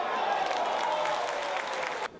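A stadium crowd of over two thousand roars and applauds at a football friendly between Trinidad and Tobago and Panama. The sustained loud cheering cuts off abruptly near the end.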